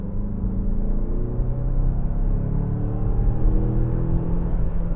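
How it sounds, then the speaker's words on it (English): Heard from inside the cabin, a 2023 Mazda CX-5 Turbo accelerates with a steady engine drone that builds slightly, plus a faint high whine riding on the road rumble, and no talking. "You hear that turbo whine."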